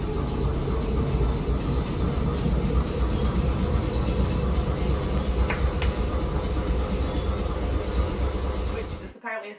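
A Melbourne tram rumbles along its rails in a continuous rolling roar with faint rattling, cutting off abruptly near the end.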